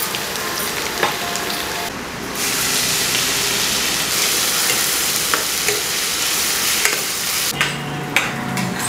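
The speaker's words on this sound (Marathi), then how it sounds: "तर फोडणीसाठी आपण तेलामध्ये लसूण ठेचून टाकायचं आणि बारीक चिरलेला कांदा जो आहे तो असा गोल्डन ब्राऊन होतपर्यंत शिजवून घ्यायचा आहे" Crushed garlic and finely chopped onion fry in hot oil for a tempering for black mutton curry, giving a loud, steady close-up sizzle with intermittent stirring scrapes and brief louder bursts, with no voices.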